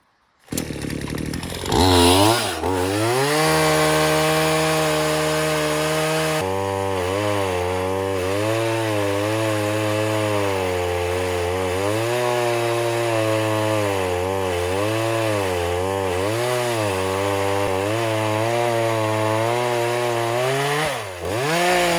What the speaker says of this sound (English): I'm just going to chop up some of the bigger logs and then take them down for splitting up.